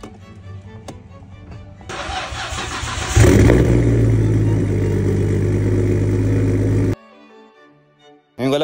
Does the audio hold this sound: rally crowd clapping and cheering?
no